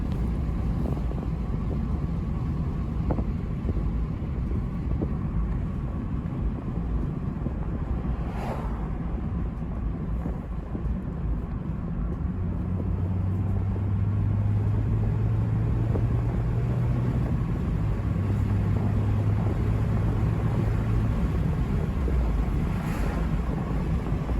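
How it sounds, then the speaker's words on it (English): Continuous low rumble of tires and wind roaring inside a moving 2022 Mazda MX-5 Miata Club, steady and loud with a faint engine drone rising midway. "I'll let you hear the road noise for just a minute."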